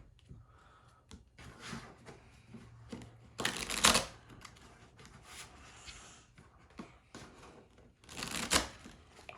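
Playing cards for the Book It! pro wrestling promoter card game are shuffled in quick riffling bursts, close and fairly quiet, with soft rustling and handling between shuffles.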